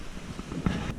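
A brief gust of wind buffets the microphone on a snowy Vosges mountain trail during a snowshoe hike. It sounds as a rough, blustery rush with no other sounds.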